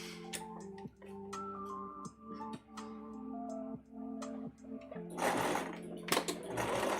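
A sewing machine runs in a steady mechanical ticking rhythm, close by, with pauses and a louder, busier burst near the end; no voices.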